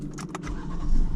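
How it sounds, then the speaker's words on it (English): A 2019 Ford EcoSport starts up: a few quick clicks and key rattles, then the engine turns over and rises into a loud close rumble, with no talk. "Car starts."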